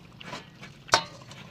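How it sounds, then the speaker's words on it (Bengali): Cauliflower being stirred in a cooking pan, soft scraping with one sharp metallic clink of a spoon against the pan, close and fairly quiet, no voices. "ফুলকপিগুলো সব দিয়ে দিয়েছি, এবার নেড়ে চেড়ে এবার ঢেকে রেখে দেবো"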